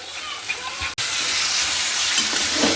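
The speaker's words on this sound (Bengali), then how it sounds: "এক চামচ টক দই দিয়ে দিচ্ছি ফাটানো এবার ভালো করে আমি কষে নেব" Spice masala with yogurt sautéing in a pan, a loud continuous sizzle and hiss with stirring scrapes, briefly cut off for an instant before carrying on.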